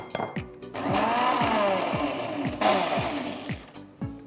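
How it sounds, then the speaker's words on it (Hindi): An Indian mixer grinder whirs loudly as it purees spinach for hara bhara kebab. It runs in short pulses, with a steady grinding roar broken by rhythmic knocks as the jar contents churn. "पालक को जल्दी जल्दी करें, हाँ, मतलब मिक्सी में टाइम वेस्ट नहीं करते"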